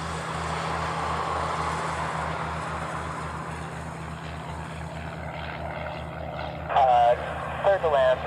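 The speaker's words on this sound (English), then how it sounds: "Next arrival's a FedEx triple." A FedEx Boeing 777 cargo jet arrives to land at Honolulu airport with a steady, distant engine roar and a low hum. A brief radio voice breaks in near the end.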